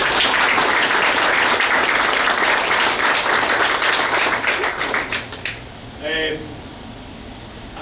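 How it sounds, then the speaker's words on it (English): A large crowd at a tire company's opening gives loud, dense applause for about five seconds, then it tapers into scattered claps, followed by a brief tonal sound and quiet. "Jonathan and his colleagues deserve a huge round of applause for that alone"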